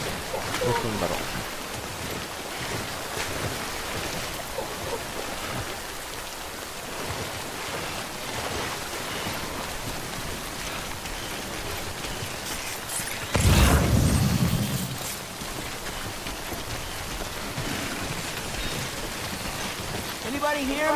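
Rain, called timefall, in the video game Death Stranding, a steady hiss of falling drops with a louder rumbling surge midway. A voice talks over parts of it.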